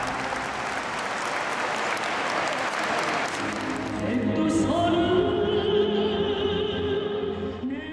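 Large crowd applause fills a North Korean mass games stadium, a steady dense roar of clapping that swells louder partway through, with a sustained music-like tone rising beneath it.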